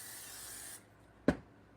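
Cooking oil sprayed from a can into a baking pan, a single short hissing burst standing alone after a steady background hiss cuts out.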